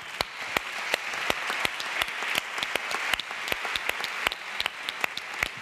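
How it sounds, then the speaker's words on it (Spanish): Audience applause at a Spanish public library conference session, a steady bed of clapping with many sharp individual hand claps standing out close by and at irregular intervals. "Un fuerte aplauso para Óscar Arroyo."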